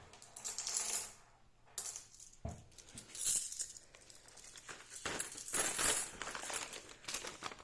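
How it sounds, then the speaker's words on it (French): Coins and money dropped into a paper savings envelope for grocery money, giving faint nearby clinks and jingles with soft paper rustling, in several short bursts and no talk. "je vais tout de suite prendre donc ma petite enveloppe épargne des courses et je vais donc mettre l'argent à l'intérieur"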